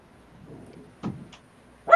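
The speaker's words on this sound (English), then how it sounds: "Is that Hobby's barking?" A dog barks outside a door, giving two short, muffled barks about a second apart that stand out against a quiet room.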